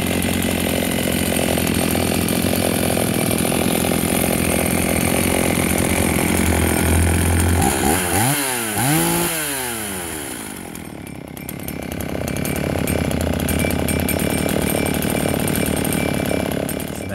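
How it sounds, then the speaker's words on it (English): A vintage Husqvarna 50 chainsaw runs close by with a steady buzzing drone, dipping briefly midway as the engine note sweeps down and back up before settling again. "Quiet little chainsaw."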